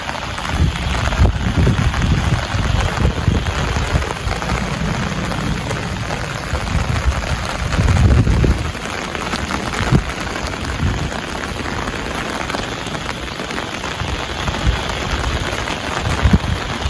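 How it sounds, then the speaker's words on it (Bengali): Heavy torrential rain pours down in a steady, loud, broadband roar that holds for the whole stretch, with no voices. "দেখেন মুষলধারে বৃষ্টি হইতেছে।"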